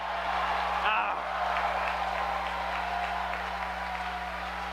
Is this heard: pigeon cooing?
no